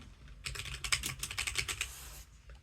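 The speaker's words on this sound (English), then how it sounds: "Let's see what happened when we try to type in a word." Quick keystrokes on a computer keyboard type out a single word, a short cluster of close, crisp clicks in an uneven rhythm, then quiet.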